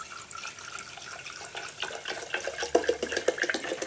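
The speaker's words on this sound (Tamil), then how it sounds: "நான் என்ன பண்றேன், முதல்ல இந்த திரவத்தை ஊத்துறேன்." Liquid poured into a glass bottle for a science quiz experiment, a steady splashing trickle that grows louder and more gurgling toward the end, close by with no talk.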